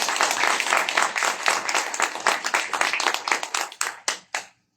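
An audience at a corporate lecture on World Class Manufacturing claps loudly and briskly, a dense burst of applause that thins into scattered claps before stopping.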